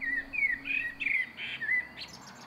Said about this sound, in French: Quatrième, le merle noir.